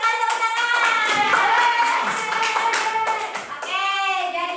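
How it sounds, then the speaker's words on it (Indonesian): Classroom applause during a mathematics lesson, a burst of children clapping their hands that fills the clip at close range, with sharp rhythmic claps and bright tonal voices or squeals running through it. "Oke, mantap sekali tepuk tangan."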